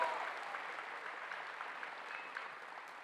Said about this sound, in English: Please give these students a huge round of applause.